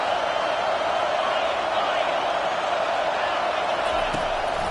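A steady, broad roar of crowd noise fills a football stadium in the video game Madden 21, unbroken and fairly loud throughout.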